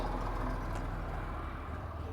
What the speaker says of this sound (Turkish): Araba sesleri.